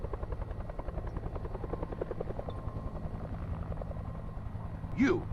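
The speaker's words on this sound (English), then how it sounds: "Sounds like a chopper." A video game helicopter's rotor thuds in a steady rapid pulse with a droning hum, continuous throughout, and a brief rising electronic chirp near the end.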